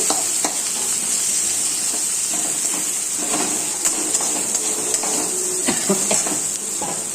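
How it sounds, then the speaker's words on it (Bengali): Chopped onions fry in a pan with a constant bright sizzle while a spoon scrapes and stirs them in short irregular strokes, close up and without speech. "তারপরে কেটে রাখা পেঁয়াজগুলো এর ভিতরে দিয়ে হালকা একটু নাড়াচাড়া করব"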